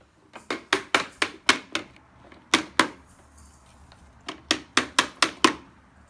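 Sharp hammer taps come in quick bursts, several rapid strikes, a pause, then another cluster, close and crisp with no talking.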